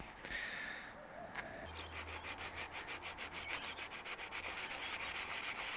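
Light hand sanding on a damaged Kawasaki Z750 motorcycle engine casing: soft, rhythmic rubbing strokes, quiet and close, settling into a steady back-and-forth scratching pattern.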